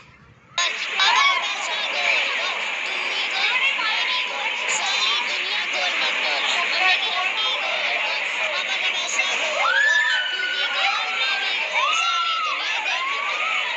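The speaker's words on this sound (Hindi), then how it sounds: "ये देखिए अब चीखे मारते हुए ये एंजॉय कर रहे हैं।" Children shriek and shout with delight on playground swings during a school trip, a loud, continuous mix of high excited voices and chatter close by, with sharper squeals rising toward the end.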